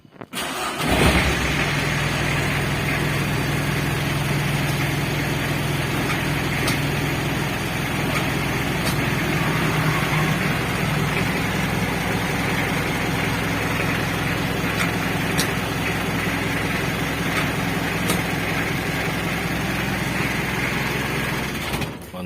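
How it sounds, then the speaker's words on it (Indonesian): A Mitsubishi L300 van engine, just back from a brake booster repair, starts and idles steadily and close by for about twenty seconds, with a constant even rumble and no talk. "Dan untuk hasilnya kita coba tes hidupkan mesinnya ya."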